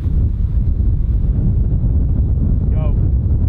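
Heavy wind on a golf course buffets the microphone with a loud, continuous low roar and rumble that fills the whole moment.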